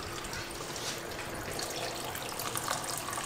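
Water pours steadily into a glass jar packed with cucumbers for gherkin pickles, a continuous splashing trickle close by with no voices.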